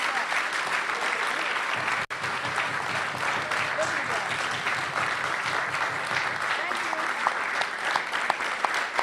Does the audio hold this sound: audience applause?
yes